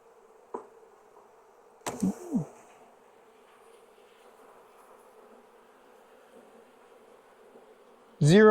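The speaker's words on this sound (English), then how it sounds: "for not having many bees in here, they are pretty noisy still." Honey bees buzz steadily from an opened hive during a fall inspection, a continuous low drone interrupted by a few brief close thumps and handling noises.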